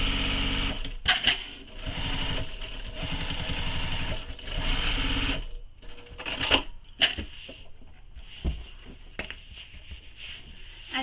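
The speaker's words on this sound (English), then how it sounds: "now we're going to sew that edge" A sewing machine runs a long steady stitch along the edge of a commuter tote bag, then stops and restarts in short bursts broken by clicks and handling noises.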